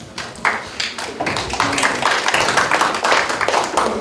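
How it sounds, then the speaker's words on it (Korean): An audience in a fourth-floor auditorium at the Chungnam Research Institute gives warm applause during a formal ceremony for agricultural-industrial complexes. The close, dense clapping builds quickly and holds steady for several seconds. "따뜻한 박수로 맞이해 주시길 바랍니다."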